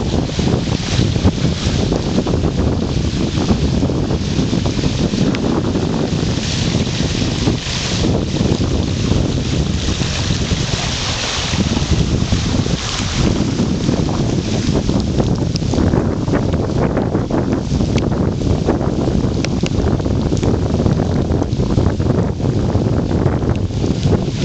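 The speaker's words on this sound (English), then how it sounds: "Ah yes, a waterfall coming across the road." Floodwater pours across Gentry Road like a waterfall, producing a continuous rushing roar that is heavily buffeted by wind on the microphone and lasts throughout, with no speech.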